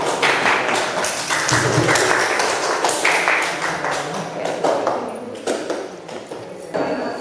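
A classroom of students clapping together, a dense close burst of hand claps with scattered taps and thumps that thins out and tapers near the end.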